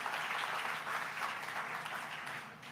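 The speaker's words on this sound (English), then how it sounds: "Let's give a big round of applause to the entire Tribeca team" Steady applause from a crowd, a dense wash of many hands clapping at moderate volume without a break.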